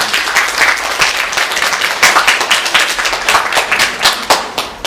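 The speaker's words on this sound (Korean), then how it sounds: "오늘은 박수로 환영을 하도록 하겠습니다" A congregation at a Sunday church service applauds continuously, dense steady clapping at close range for several seconds.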